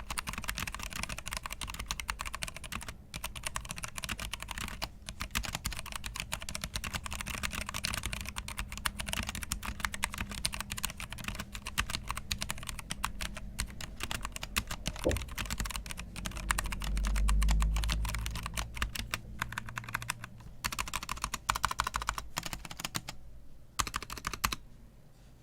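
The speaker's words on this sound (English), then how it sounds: "So there is a bit of a sound sample on what that keyboard sounds like." Typing on a Velocifire M87 mechanical keyboard for Mac, a long run of rapid, close clicky keystrokes with brief pauses, steady and alone without talk.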